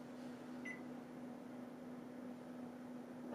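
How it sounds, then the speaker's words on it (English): A microwave oven hums steadily while heating water, a constant low drone with a brief faint beep near the start, heard alone at a quiet indoor level. "maybe I'll just warm some up in the microwave"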